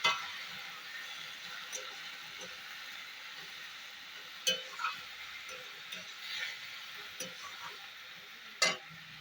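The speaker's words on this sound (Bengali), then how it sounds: "কাঁঠাল বীজ, আলু আর পুঁই শাক দিয়ে দিয়েছি।" Jackfruit seeds, potato and malabar spinach with turmeric and chilli powder fry softly in a pan, a steady low sizzle with a few sharp scrapes and clinks of stirring at intervals, no talking.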